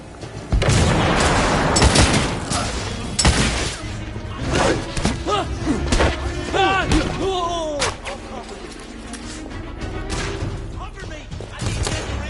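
Grenade blasts and gunfire in a combat video game: repeated heavy booms and sharp shots in uneven bursts, with shouted voices over the fighting.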